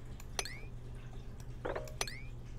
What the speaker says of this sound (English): Let all this water fall down